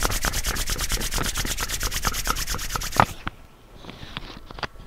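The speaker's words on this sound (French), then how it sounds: "On se frotte les mains." Hands rubbing briskly together in a fast, regular back-and-forth rhythm, close and loud, for about three seconds before stopping into near quiet.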